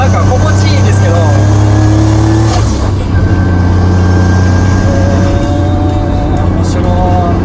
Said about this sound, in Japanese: この車でもこれぐらいだったらミッションの鳴きがなんかこう気持ちいいぐらいですね